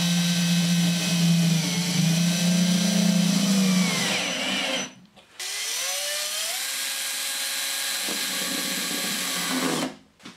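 Power screwdriver driving screws into Thorsman Duo Max plasterboard fixings with penny washers, a close, loud whirring motor run of about five seconds, a brief pause, then a second sustained whine rising in pitch as the screw tightens.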